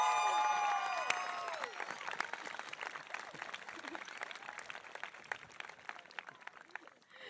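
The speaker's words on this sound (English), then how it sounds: "Get a round of applause." Steady applause from a crowd at an outdoor high school graduation in a stadium, dense clapping that fades gradually over several seconds, with a few voices mixed in near the start.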